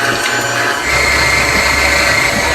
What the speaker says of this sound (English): I'm going to lower the head of the mixer and shield. So I'm going to mix this until it's completely combined.